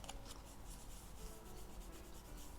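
Alcohol ink being rubbed onto a journaling card with a pad, a steady close scrubbing and brushing texture with soft repeated strokes, quiet and continuous with no talking.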